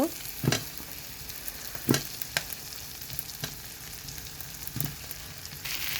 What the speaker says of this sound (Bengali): তারপরে আলুগুলো সব একে একে দিয়ে দেব।